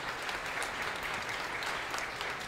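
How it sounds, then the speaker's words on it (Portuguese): Steady applause from a comedy-club audience at a hypnosis show in Porto Alegre, a dense, even wash of clapping that holds at full strength throughout. "Uma salva de palmas para os nossos astros"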